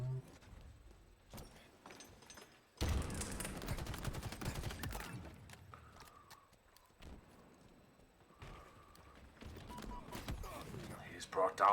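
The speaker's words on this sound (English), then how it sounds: "Oh, the shock rifle in the hands of Crossman." Shock rifle fire during a 4v4 Halo Infinite tournament match: sharp bursts of shots mixed with other game effects, heard under an excited commentator's voice.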